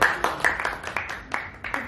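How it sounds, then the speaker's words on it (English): An audience at a Miss Eco International pageant event gives a brief round of applause, with scattered claps close by and a voice faintly underneath. "let's give a round of applause"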